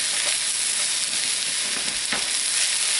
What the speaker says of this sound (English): Oh, I love the smell of onions cooking.